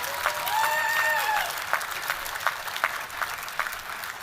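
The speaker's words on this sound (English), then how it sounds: "So please continue applause for all of our award winners." Clapping from a university graduation audience for an award winner at a Melbourne ceremony, a steady wash of many hands in a hall with a brief tonal voice or whistle near the start, fading slightly toward the end.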